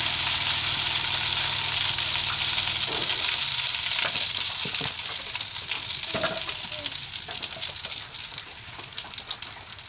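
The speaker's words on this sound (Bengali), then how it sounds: "আমাদের চিপ ভাজা হয়ে গেছে।" Potato chips deep-frying in hot oil, a loud continuous sizzle that eases slightly over time, with occasional stirring clinks and scrapes close by.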